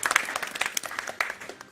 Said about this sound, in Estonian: Jaa, teeme endale aplausi.